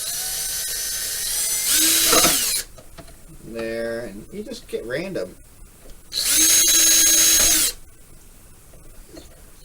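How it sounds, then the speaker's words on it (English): A power drill bores window holes in a plastic Monogram Cylon Basestar model kit, two sustained whining bursts of drilling close up, separated by a stretch of talking. "but it's still drilling"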